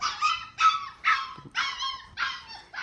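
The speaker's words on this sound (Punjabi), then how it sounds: "ਆਪਣੀ ਕੁੱਤੀ ਸੂਈ ਹੈ" A female dog that has recently given birth barks six times on a farm, in a steady series of sharp, nearby barks with brief pauses between them, and no one speaks.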